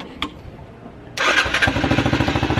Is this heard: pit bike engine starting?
yes